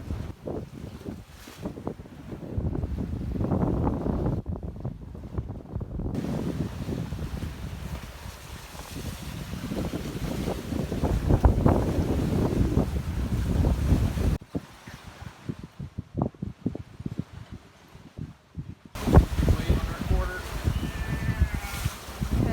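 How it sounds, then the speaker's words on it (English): Strong wind of around 28 knots roars across a sailboat running steadily downwind with only the headsail out at about 7 knots, the gusty rush and buffeting mixed with waves and hull noise, loud and continuous with brief lulls. "28 knots of wind, steady downwind."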